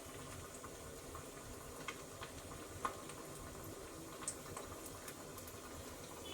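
Oat-coated fish balls deep-fry in oil with a faint, even bubbling hiss and a few small pops, quiet and continuous.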